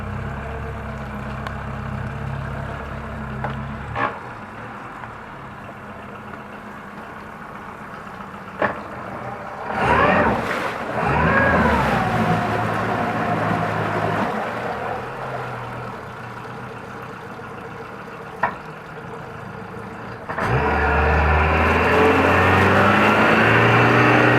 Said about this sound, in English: let it sit here and idle for a second, then I'm going to put it back in reverse